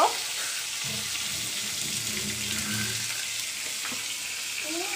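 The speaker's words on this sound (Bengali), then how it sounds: "তো সবগুলো মাছ এখন আস্তে পিস্তে ভালো করে ভেজে নিব।" Fish pieces fry in a pan with a close, steady sizzle and crackle, broken by faint clinks and stirring sounds.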